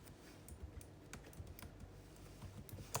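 Soft, steady typing on a computer keyboard during a live stream, heard as a quiet run of small clicks and taps over low background noise with no one speaking.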